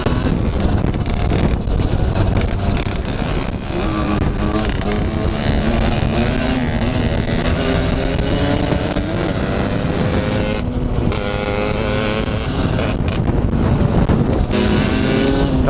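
A 50cc enduro motorcycle revs hard in first gear, its engine note loud and continuous, rising and wavering throughout with wind buffeting the microphone.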